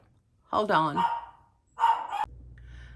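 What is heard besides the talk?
small Yorkie dog barking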